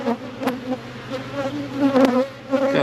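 Honeybees buzz around an open hive during a weekly hive check, a close, wavering drone with individual bees passing near and fading, steady throughout with no speech.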